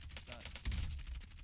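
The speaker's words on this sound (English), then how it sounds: "I hear gunshots." Rapid bursts of gunfire in the video game Warzone crackle faintly in the background as a quick, uneven string of sharp shots, with a low rumble and a muffled voice underneath.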